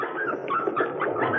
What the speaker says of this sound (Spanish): Ahí está su perro.